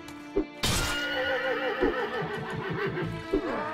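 Horse whinnying in the medieval combat game Mount & Blade: Warband, a loud, long neigh bursting in after a short snort, with its shaky, wavering call trailing over several seconds and softer breathy snorts near the end.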